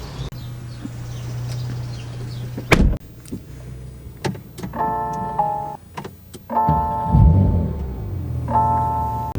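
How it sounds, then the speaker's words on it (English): A Porsche 911 Turbo S front seat pulled forward, with clicks and thumps followed by several bursts of electric motor whirring, close and clear, with no talk. "So you just pull that forward. You can access the rear seats."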